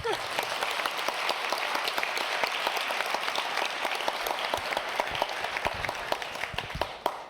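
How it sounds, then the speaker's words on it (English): Graduating class at a graduation ceremony giving themselves a round of applause, dense sustained clapping from a large crowd with sharp individual claps poking through the steady roar. "Maybe give a round of applause for yourself."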